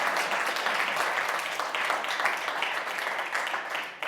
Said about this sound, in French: très chaleureux applaudissements pour Denise Hervoudaki qui est à l'origine de cet événement